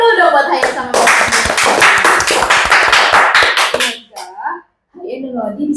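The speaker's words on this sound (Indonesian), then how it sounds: "Kasih tepuk tangan dulu dong buat Hayan sama Melody." A small group gives brisk, close applause for two young podcast guests, sharp hand claps for about three seconds before they stop and someone begins talking.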